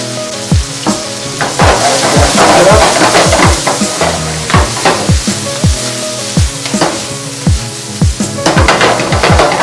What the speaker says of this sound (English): I'm going to saute that lightly